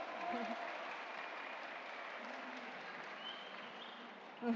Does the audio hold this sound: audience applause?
yes